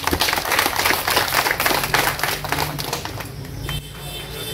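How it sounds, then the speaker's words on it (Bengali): A crowd at a political village panchayat gathering claps together in a dense, steady burst of overlapping hand claps that lasts several seconds, then thins and softens near the end. "ওদের জন্য একবার হাততালি দেন সবাই।"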